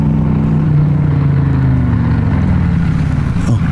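A motorcycle rumbles past close by, its loud steady engine drone sliding lower in pitch as it goes by, with no talking over it.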